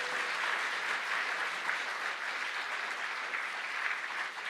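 Steady applause from a sizable crowd of pastors and churchgoers at a meeting, sustained clapping at an even level throughout with no voices standing out.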